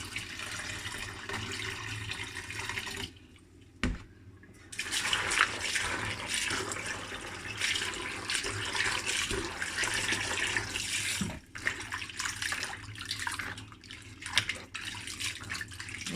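Tap water runs steadily into a sink while soaked beans are rinsed for African bean cake, a continuous close splashing flow with brief pauses.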